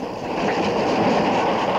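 Steam locomotive 241 P 17 running on rails, a steady loud rolling rumble of wheels on track with a faint rhythmic clatter, continuous and close throughout.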